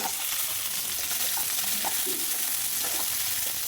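Garlic, ginger, onion, green chili and tomato sizzle in a pan while being stirred, a dense steady frying hiss with occasional scraping and stirring knocks, close and continuous, no voices.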